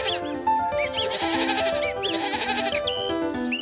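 Goats bleating in an animated story of Heidi set in the mountains, several loud, wavering bleats overlapping over a light musical background, close and continuous.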